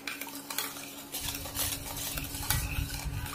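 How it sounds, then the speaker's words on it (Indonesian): Nutrijel coconut-pandan jelly mixture stirred slowly in a pot with a utensil, a steady scraping swirl with faint clinks of metal against the pan, continuous and close throughout without any talk. "Lalu dimasak sambil diaduk perlahan-perlahan."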